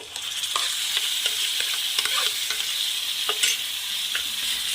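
Tomato chutney cooks in a pan while being stirred, giving a close, steady sizzle broken by repeated scraping strokes of a spoon against the pan.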